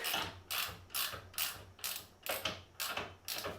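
Lift jack ratcheting under a Harley-Davidson Road Glide bagger motorcycle, seven evenly spaced mechanical clacks with a metallic, gear-like rasp, close and moderately loud, no talking.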